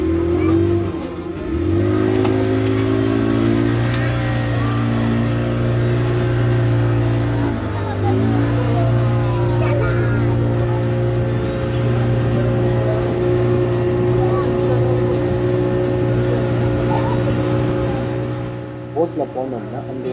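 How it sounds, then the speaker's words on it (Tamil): A boat's engine runs as the boat sets off on a short trip to a small island, a loud, steady droning hum that shifts pitch once early and again around the middle, close and continuous. "நம்ம போட்டும் கிளம்பிடுச்சு."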